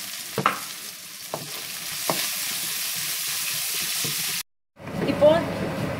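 Onions sautéing with salt in a pan for a Kerala moru curry, stirred in a few scraping strokes over a steady close sizzle that cuts out briefly, then returns louder.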